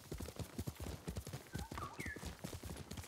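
Horse hooves clip-clopping in Ghost of Tsushima, a rapid rhythmic galloping beat of steady strikes with a brief whinny midway, fairly quiet and continuous throughout.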